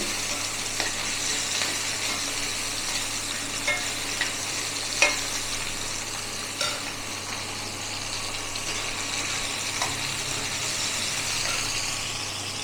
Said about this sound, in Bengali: রসুনটা ভাজা হয়ে যাবে।